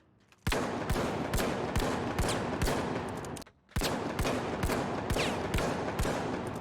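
FCAR rifle in The Finals fired from the hip in two sharp bursts of evenly spaced, loud punchy shots, about eight rounds each, separated by a brief pause, with no talking.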